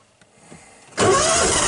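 A cold engine in a vehicle used for deer hunting in Georgia cranks briefly with the choke on, then catches and settles into a loud, steady idle that holds to the end.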